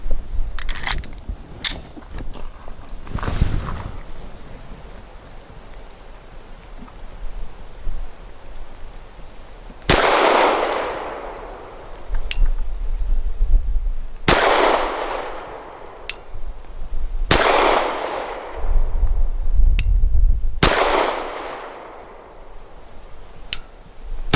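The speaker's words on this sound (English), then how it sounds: "Also using Nosler match 115 grain for my 5 shots from 7 yards." A Gill Arms GPR 9M pistol fires Nosler Match 115-grain rounds at about 7 yards. Several sharp, loud reports ring out a few seconds apart, each with a ringing decay, after some earlier handling clicks.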